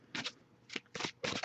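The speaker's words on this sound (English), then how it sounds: "I'll shuffle for a little bit longer." Tarot-style reading cards being shuffled by hand, heard as four brisk riffling bursts with short quiet gaps between them, close and fairly soft, with no talking.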